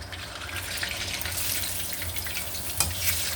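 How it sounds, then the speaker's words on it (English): Dumplings frying in hot oil in a pot, giving a steady, close, broadband sizzle and bubbling hiss that runs throughout with one brief sharper pop near the end. "So the oil is in the pot, and now we're going to put the dumplings in the oil."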